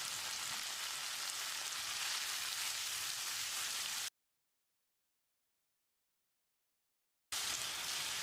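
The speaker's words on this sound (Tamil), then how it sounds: "இதோட ஒரு 2 டீஸ்பூன் உப்பு சேர்த்து தக்காளியை நல்லா வதக்கிடலாம்" Ripe tomatoes cook with salt in a pan on the stove, giving off a steady, hissing sizzle that breaks off into a stretch of silence and then resumes.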